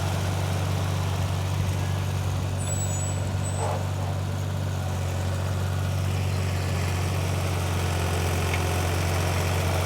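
A tractor engine drones steadily and loudly at close range while pushing a landscape rake through wet sand, with a deep constant hum and no breaks.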